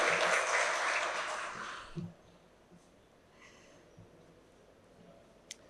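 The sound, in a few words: round of applause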